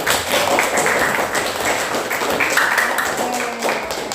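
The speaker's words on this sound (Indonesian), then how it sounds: "Tepuk tangan untuk kita hari ini." High school students in a classroom clap together at the end of a lesson, a dense, continuous patter of hands lasting about four seconds, close and fairly loud.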